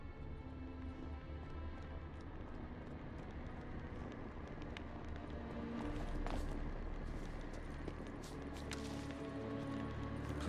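Horse galloping in the Witcher 3 video game, a steady run of hoofbeats carrying through the whole stretch over a busy game soundscape, loud and continuous with no talk.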